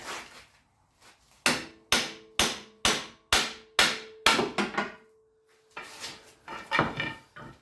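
A drive shaft is knocked out of the hub on a 2003 Honda Element with a series of loud, close metallic hammer blows, eight sharp evenly spaced strikes with a ringing tone, then a few looser clanks.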